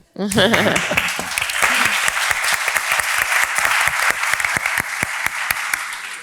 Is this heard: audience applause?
yes